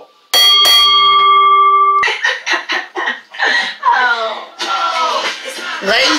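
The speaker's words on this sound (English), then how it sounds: "Ring the bell!" A ringing bell sounds after a pinfall in a wrestling video game match, clanging loudly for a couple of seconds before excited laughter and shouting voices take over.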